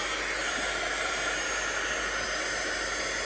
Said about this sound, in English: you could always hit that with the heat gun as well to dry that